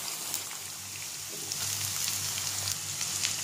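Carrots and capsicum stir-fry in a pan for restaurant-style veg hakka noodles, giving a steady, moderately loud sizzle and crackle with no talking.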